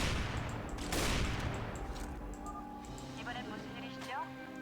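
Rapid gunfire from a sniper-heavy zombie apocalypse shooter game, a dense burst near the start fading into sustained battle noise, with chirpy game effects and voices talking over it.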